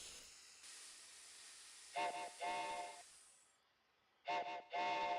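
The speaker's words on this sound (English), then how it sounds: "I have no idea where that whistle came from." A steam whistle in a train layout video game sounds in two bursts, each a pair of short blasts, over a faint steady hiss of steam.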